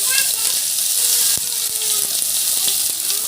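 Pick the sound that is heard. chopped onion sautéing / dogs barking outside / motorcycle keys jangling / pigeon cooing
chopped onion sautéing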